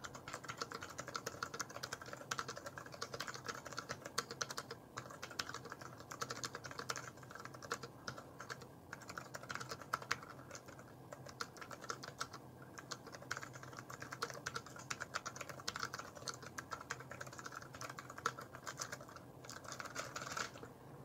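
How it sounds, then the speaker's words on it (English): Steady, continuous typing on a Gamdias Hermes M3 mechanical gaming keyboard with blue switches, crisp clicky keystrokes in a dense, even patter recorded close to the keys, with no talking. "I'll try to get close to the keyboard just to give you guys a sound test so you can hear what this exactly sounds like"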